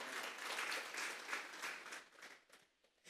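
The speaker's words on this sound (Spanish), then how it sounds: "Vamos a darle una ofrenda de palmas a Dios en esta hora." A church congregation claps and applauds during a Sunday service, a dense wash of hands that fades out near the end, with no talking over it.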